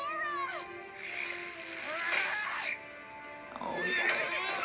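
Cartoon horse neighs with a strained, wavering whinny in the She-Ra and the Princesses of Power animated series, two or three cries over about five seconds with voices and music mixed underneath.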